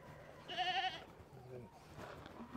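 Goats bleat on a farm, one clear wavering bleat rising near the middle of the clip over faint background noise and low rustling.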